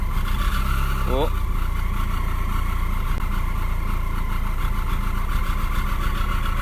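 Freshly installed engine idling a little roughly, a steady close rumble with uneven pulsing that holds throughout, a brief rising tone early on, and someone talking over it.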